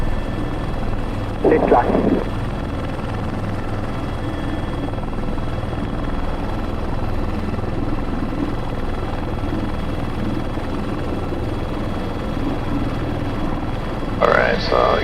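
An H125 helicopter lifts off on a sling-load tower erection job, its loud, steady rotor and turbine roar filling the whole stretch from close by, with brief radio-style voices at the start and end.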